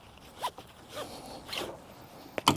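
Straps on a Rivian R1T tailgate pad being loosened, giving a few short, close raspy pulls with a sharp final rasp near the end.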